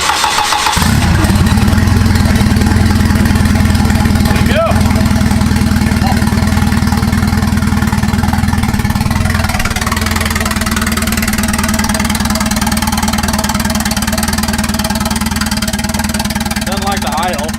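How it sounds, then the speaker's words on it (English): A turbocharged car engine on Microsquirt standalone engine management cranks, catches and settles into a loud, close, steady idle that holds for over fifteen seconds. "Well, I mean, it's idling."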